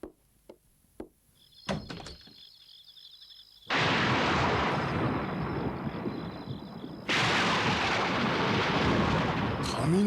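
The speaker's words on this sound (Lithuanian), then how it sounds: "Griaustinis. Ir pradėjo lyti." A few sharp knocks come first, then a sudden heavy rumble of cartoon thunder rolls in and runs straight into a steady, loud wash of rain for the rest of the scene.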